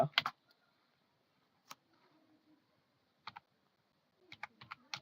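Sparse bursts of keystrokes on a computer keyboard while a query is typed into ChatGPT, a quick cluster at the start, a lone tap, then short flurries near the end, close and quiet in an otherwise silent room.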